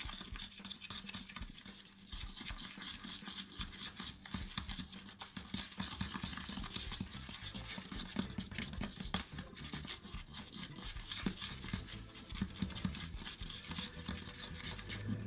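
Continuous wet, sticky stirring and squelching of a thick glue-free slime mixture made from shower gel and sugar, stirred with a stick, steady and close, with no voices.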